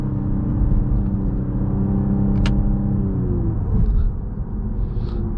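A 2024 Cadillac CT5-V's engine pulls through quick gear upshifts, a loud droning note that climbs with revs and then drops off near the end, heard from inside the cabin.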